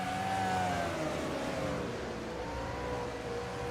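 Race cars accelerate at Anderson Speedway, a steady whining roar of engines at moderate distance that holds without a break.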